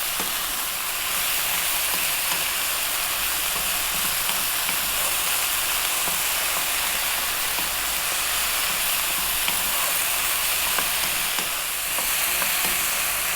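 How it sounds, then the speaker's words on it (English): Vegetables for fried rice sizzle steadily in hot garlic and ginger. A loud, continuous frying hiss runs throughout, with occasional stirring scrapes, close up and with no talking. "We've got an abundance of absolutely wonderful vegetables there, cooking away in that garlic and the ginger."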